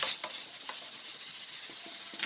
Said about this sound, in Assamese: এচামুচ চেনি দি ভালদৰে লৰাই ল'ম।